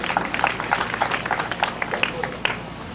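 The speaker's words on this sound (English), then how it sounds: "You may clap for yourself." Students at Nkubu High School clapping together, a brief patter of many hands at moderate volume filling a hall, close and continuous for a few seconds.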